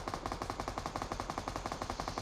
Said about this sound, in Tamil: கையில மிஷின் கன் இருக்கு